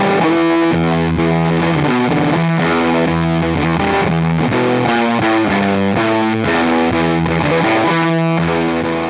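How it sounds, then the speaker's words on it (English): A Cosmodio Instruments Glitch Witch fuzz pedal with its divisor dropped several octaves, giving a loud, gritty, heavily distorted guitar tone with low octave-down growl, played continuously in choppy note changes, with no talking. "this first sound had the divisor dropped by about 4 to 6 octaves. I had the depth kind of turned down a little bit more so you could hear a lot of the fuzz"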